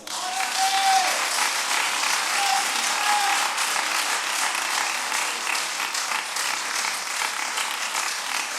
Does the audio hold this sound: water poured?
no